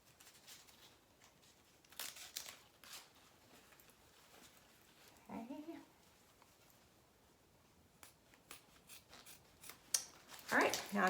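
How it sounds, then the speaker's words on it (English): Scissors snip ribbon ends into a V cut for a wreath made from real Christmas greens, a few quiet, crisp cuts spaced apart at close range with light rustling between them. "Trim up the ends, the pretty little V cut."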